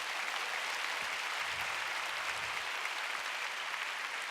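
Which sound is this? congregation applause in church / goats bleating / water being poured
congregation applause in church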